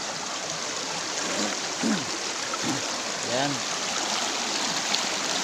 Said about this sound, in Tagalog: ipapakita ko sa inyo ang ilog sa amin dito sa may sa probinsya ng Antique